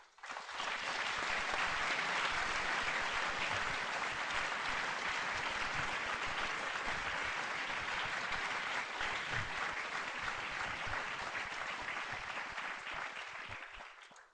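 Sustained audience applause welcomes a lecturer at LSE, a dense, steady clapping that swells quickly and holds for about fourteen seconds before tapering off at the end.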